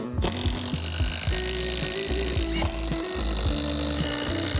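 Power driver sinking 6-inch timber lock screws into a wooden block for a deck patio cover, a steady loud whirring drive with repeated stepping pitch changes as each screw bites, running continuously without talk.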